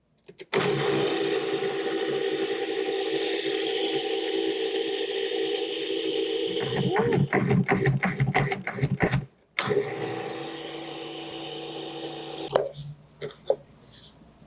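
A food processor whirs loudly for several seconds, blending pretzel crust as butter goes in, its motor roar breaking into rapid pulsing bursts, cutting off briefly, then resuming before winding down with a few knocks.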